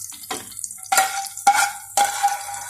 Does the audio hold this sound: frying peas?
yes